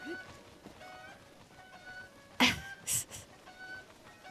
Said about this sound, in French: vous entendez le chat gratter dans sa caisse?